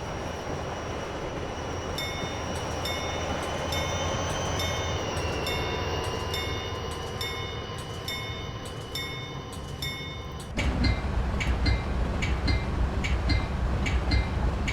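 Train Simulator 2016 locomotive on the Chicago-Aurora line, a steady rumbling run with high tonal whines and rhythmic clicking, growing louder and harsher near the end as wheel noise rises.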